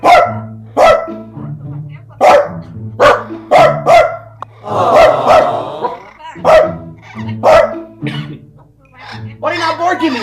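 Parrots imitate dogs barking in a rapid series of short, loud, close bark-like calls over a low steady hum, each call sharp and separated by brief gaps.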